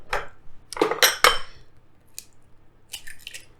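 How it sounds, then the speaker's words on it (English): Eggs cracked one at a time into a bowl: sharp taps and clinks against the rim in quick succession, then softer wet plops and faint clatter, close up with no talking. "I like to crack them in a bowl first just to make sure that I don't get any shells"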